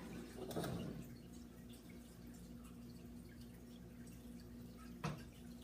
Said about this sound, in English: now I'm going to add my water.